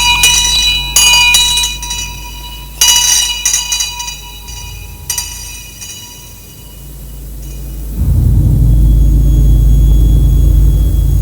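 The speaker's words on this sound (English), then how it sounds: "tolling this handbell" A handbell tolls in London for a Newgate execution ritual, ringing out several separate strokes that hum and decay, before a loud, low, steady rumble takes over.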